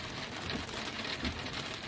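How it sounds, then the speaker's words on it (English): Heavy rain falls steadily as a dense, even hiss with soft patters, continuous and fairly faint, with no voices over it. "it's raining so hard"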